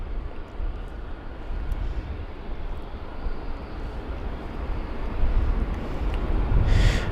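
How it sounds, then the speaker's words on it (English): Jet engines of a British Airways Airbus A380 at London Heathrow make a steady, fairly distant rumble that grows somewhat louder toward the end. "Alright, so the British Airways A380 this is."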